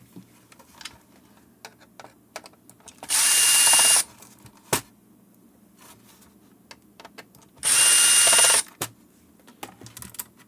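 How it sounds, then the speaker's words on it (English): A power screwdriver removes the screws holding a motherboard in a PAR 3M G5 drive-thru unit, whirring in two steady, loud bursts about a second long, with small clicks and handling noises between them. "now we have to open the screws that are holding the motherboard"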